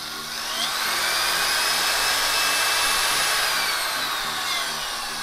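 A Makita electric drill with a 10 mm chuck and reverse runs at variable trigger speed, giving a loud, steady motor whine whose pitch rises and falls slightly, close by with no talking.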